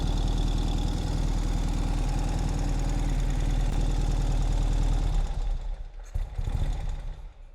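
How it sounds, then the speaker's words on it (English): A 2020 Ural Gear Up sidecar motorcycle in Arctic Dawn trim idles with a steady, loud, throbbing engine beat for about five seconds before the sound drops and turns uneven, with some rattling. "get the engine running, leave it on"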